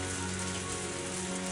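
A heavy downpour from the Higurashi When They Cry visual novel, a dense, even hiss of rain on surfaces that holds steady throughout, with no voices.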